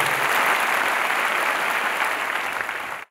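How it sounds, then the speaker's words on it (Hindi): A congregation clapping at a church service, dense sustained applause that holds steady and fades out at the end. "विश्वास करने वाले तालियां बजाएं।"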